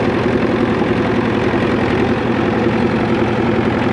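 Motor dozer engine at a steam show idling steadily nearby, a continuous low rumble with a slight knocking pulse and no change in pace.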